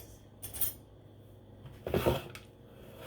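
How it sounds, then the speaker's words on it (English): A kitchen knife is picked up from among dishes and cutlery in a home kitchen before cutting apples, giving two short metallic clinks and rattles, close by, with no talking. "I'm just gonna grab a knife and go in there like this."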